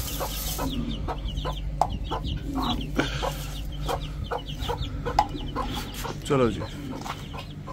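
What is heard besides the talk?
small chicks and chickens clucking at feeding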